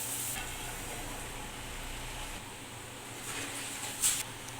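Finely chopped onion sautéing in a pan, a steady soft sizzle running throughout with a faint scrape near the end, close and even, no voices.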